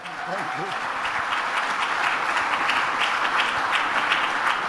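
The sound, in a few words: audience applause for footballer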